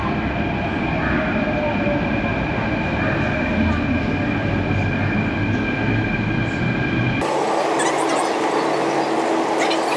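A Mumbai metro train at a station gives off a loud, continuous rumble with rail clatter and faint wheel squeal, then the heavy low roar cuts off abruptly near the end.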